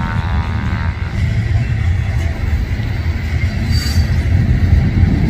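A freight train rolls past close by as a steady, loud low rumble of wheels and cars on the rails, with a faint high squeal near the end.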